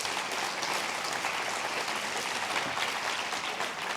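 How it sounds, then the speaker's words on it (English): An audience at a conference launching an international teaching survey gives sustained applause after a presentation, a steady even wash of many hands clapping with no talk over it. "Another round of applause for Ro Chen, please."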